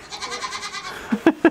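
Goats bleating inside a goat barn, a run of wavering nasal calls followed by two or three sharp, loud bleats close by, with no talk over them.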